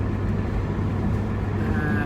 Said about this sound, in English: I'm driving the Ute